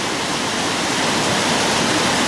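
The River Turret rushes in a loud, continuous broadband roar of churning water, close by and unbroken, with no other sounds over it.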